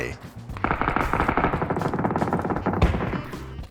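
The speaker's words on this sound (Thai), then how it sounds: "ยังไม่เห็นตัวได้ยินแค่เสียงปืน" Rapid bursts of automatic gunfire in the video game PUBG rattle continuously, loud and echoing, with a brief voice mixed in.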